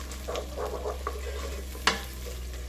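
A spoon stirs a rice mixture with tomato cooking base in a pot, making soft scraping strokes over a low, steady sizzle, with one sharper knock near the end.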